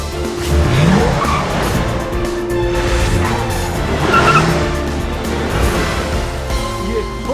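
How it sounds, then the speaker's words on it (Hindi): A car skids and squeals its tires while parking, with engine noise and tire screech rising and falling over several seconds, loud and close, mixed with background sound. "ये गाड़ी खुद ब खुद कैसे पार्क हो गई"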